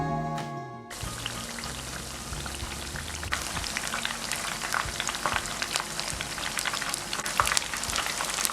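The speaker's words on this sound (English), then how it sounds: "Fry on low to medium flame until nice golden brown." Chicken wontons deep-frying in hot oil over a low to medium flame, a steady close crackle and dense spattering pops after a brief quiet start, with no voices.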